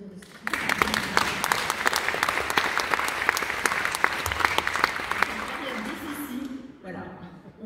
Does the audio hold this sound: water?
no